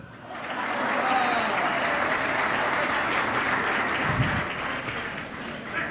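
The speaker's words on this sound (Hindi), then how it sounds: "तालियां उस बच्चे के लिए बजाना" An audience at a Hindi comedy poetry show breaks into steady, sustained applause, a moderately loud wash of many clapping hands that holds evenly for several seconds.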